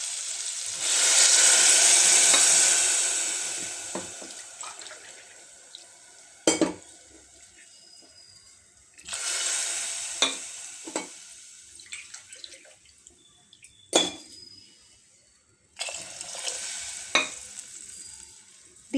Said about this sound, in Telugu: ఇలా వేగిన తర్వాత ఇప్పుడు వాటర్ పోసుకోవాలి.